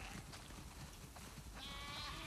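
Sheep bleat in short, wavering calls over a noisy, busy background in The Last of Us Part II, with a higher tonal sound rising near the end.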